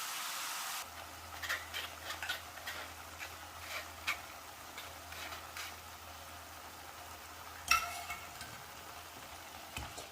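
Sautéed carrot and melted jaggery are stirred in a pan, with a faint, soft sizzle and scattered light scraping ticks from the spoon, no talking.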